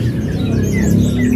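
A female magpie robin (murai) chirps from close by in a short burst of calls over a low background hum.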